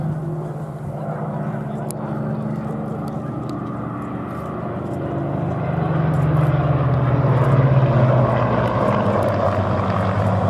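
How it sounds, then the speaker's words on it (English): A Hawker Hurricane's piston engine drones steadily as the aircraft comes in to land at Duxford, a continuous low rumble that swells somewhat louder in the second half, with some talk faintly underneath. "I'm flying a Hurricane, now I've got to land it."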